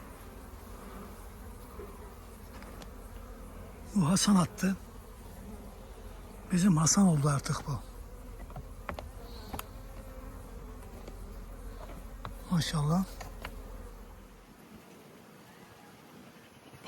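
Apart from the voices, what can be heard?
honeybees buzzing at hive, drones present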